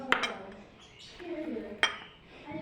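Dishes and utensils clink sharply twice while cooked onions are moved into another vessel for a dahi chana chaat, with soft kitchen handling noise between the clinks and no talk.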